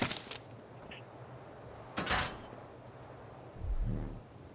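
Doors placed on a turret tower structure in the video game ARK Mobile snap into position with a couple of quick clunks, a brighter thud midway and a low rumbling thump near the end, without speech.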